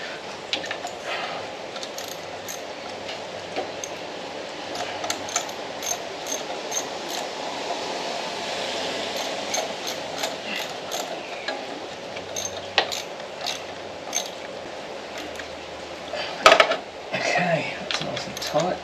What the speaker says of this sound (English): I'm just going to use an 8mm quarter drive socket to nip these up